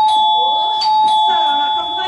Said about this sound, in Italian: prima che suoni il campanello di nuovo